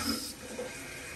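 Water rushes into a Members Mark high-efficiency toilet tank as it refills after the supply is turned on, a steady, close hiss of flowing water with no break.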